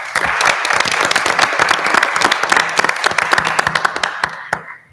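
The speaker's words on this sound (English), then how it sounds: "So I'd like to acknowledge Joe with a nice round of applause." Applause at a school board meeting, a lively round of many hands clapping close by with sharp individual claps, dying away near the end.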